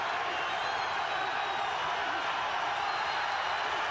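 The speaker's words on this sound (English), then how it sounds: "Crowd loves it" A boxing arena crowd at the MGM Grand roars steadily after a fight, a dense, continuous wash of cheering and applause with an announcer's voice blended into the noise.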